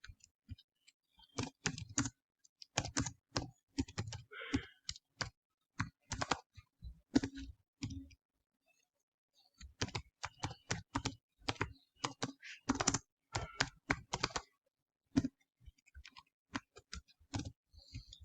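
Keys clatter on a computer keyboard in uneven bursts of quick taps, close and crisp, with a short pause partway through before typing resumes; no talking.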